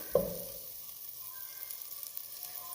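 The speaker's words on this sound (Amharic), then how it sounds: "ትንሽ ዘይት ጨምራለሁ። ቅቤውና ዘይት አንድ ላይ።" Butter and oil sizzle together in a pan for a chicken curry, a faint, steady hiss that follows a brief clink at the start, with no one speaking.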